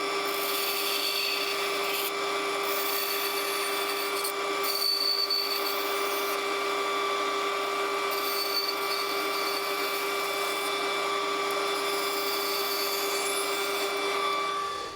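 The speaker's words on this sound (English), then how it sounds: "I'm going to cut this with a bandsaw" Bandsaw cutting a guitar body template, a steady near motor hum with a constant tonal whine and a soft rasp of the blade through the material, running alone throughout at moderate level.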